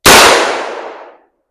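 A single sharp gunshot from a TPS M6 survival rifle firing a .22 Hornet round at an outdoor range, loud and close, with a short decaying echo and no talk.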